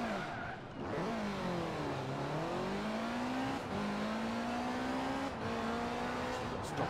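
A Ford RS200 engine in the Forza Horizon 4 video game revs and accelerates through several rising gear pulls, loud and continuous with short dips between shifts, heard alone without talk.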